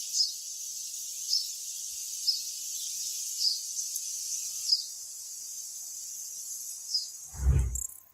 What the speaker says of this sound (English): there is birdsong